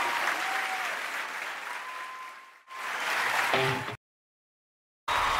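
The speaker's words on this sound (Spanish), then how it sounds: "aplauso al Señor" Applause in praise of the Lord during Spanish-language worship, a dense crowd wash lasting several seconds with a brief dip, a faint sustained tone and some musical notes mixed in, then a short silence before it resumes.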